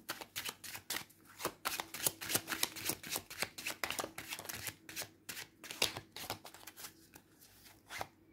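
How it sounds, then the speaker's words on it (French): Tarot de la dévotion cards are shuffled and handled in a quiet room: rapid, crisp riffling clicks and flicks come in dense, irregular runs, close and fairly soft, with no talking. "Je tire une carte du tarot de la dévotion"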